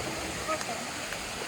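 Haratai waterfall at Loksado, a steady broadband rush of falling water that holds at an even, moderate level throughout with no pauses.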